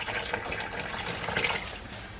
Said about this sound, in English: I'm just going to water the hole first.